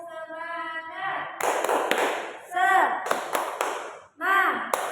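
A teacher and a class of fifth-grade pupils perform rhythmic clapping, with sharp bursts of claps alternating with sung or chanted voices in short patterned phrases.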